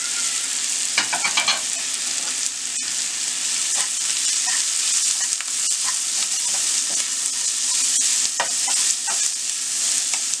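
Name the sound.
frying grated carrot in a pan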